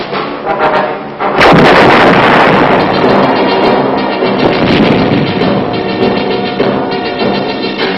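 Vietnam War artillery firing during a 1966 Screaming Eagles operation in Phu Yen province, with a sudden very loud blast followed by a long roaring, rumbling decay and wind buffeting, and no voices.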